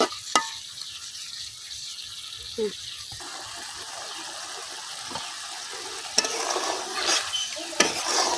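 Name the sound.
chanda fish being sautéed in a pan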